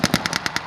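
A rapid burst of automatic gunfire at a WW2 battle re-enactment, about seven sharp shots in quick, even succession, loud and close.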